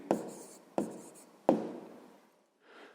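A pen writes numbers on paper, sounding as three sharp scratchy strokes about a second apart, each fading out, followed by a brief soft rub after a pause.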